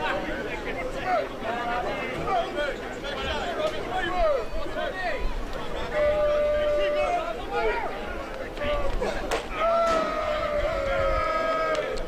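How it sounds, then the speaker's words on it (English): Crowd at a packed softball park on opening Monday night of a tournament, a continuous hubbub of chatter and shouts close around, with a commentator talking over it. "Very good crowd here tonight."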